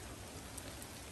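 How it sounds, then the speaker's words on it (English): Steady rain coming down on a yard during landscaping work, a soft continuous hiss of drops close by with no voices. "But it just started raining."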